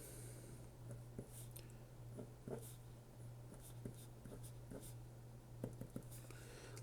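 Pen or marker writing out algebra steps by hand during a math lesson, with soft scratchy strokes in an irregular rhythm over a low steady hum.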